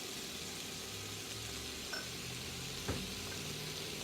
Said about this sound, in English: We're going to let this saute about 5 minutes